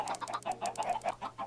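Rapid, rhythmic clucking of several Minecraft chickens, close and continuous, with no other sounds.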